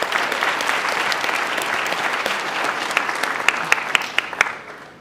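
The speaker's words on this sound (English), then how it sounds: "So let's give them a round of applause." An indoor audience at a student recognition event applauds the staff of an African American student services department, sustained clapping from a crowd that thins into a few louder, separate claps before fading out.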